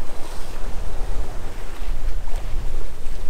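A De Cesari 33 sailboat power-reaches under code zero in a 15-knot evening breeze, with gusty wind buffeting and rushing water filling the whole clip.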